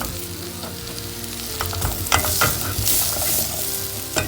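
Leeks sauté in a pan for leek and potato soup, sizzling steadily while a spoon stirs with scraping clicks. The sizzle grows louder and busier partway through. It is close, with no talking.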